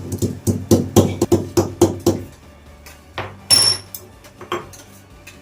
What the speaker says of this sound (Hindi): 4-5 इलायची, फ्रेश इलायची कूट के डालेंगे यहाँ पे